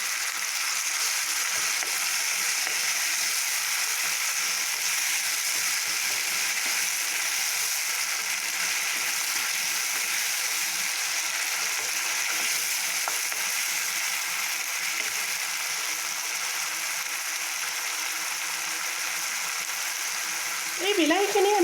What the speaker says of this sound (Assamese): এই বিলাহীখিনি আমি ভালদৰে 3-4 মিনিটমানৰ কাৰণে সিজিবলৈ দিম।